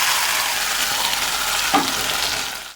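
Leaf paste fries in hot mustard oil with turmeric, giving a steady, close, broadband sizzle that runs evenly for nearly three seconds, with one brief stir scrape near the end before it cuts off.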